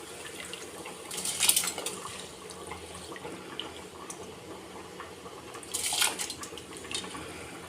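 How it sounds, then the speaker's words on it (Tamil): Rice and lentils are tipped into a pot of boiling water while cooking pongal, giving two short bursts of splashing and metallic clatter against a low, steady kitchen background. "அரிசி பருப்பு போட்டுடலாம்."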